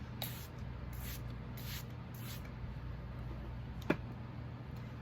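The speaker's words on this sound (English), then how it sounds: "I am just going to spray my face with that" Maskcara Beauty Stay setting spray hisses onto a face in four quick bursts near the start, soft and close, followed by quiet room tone and one sharp click.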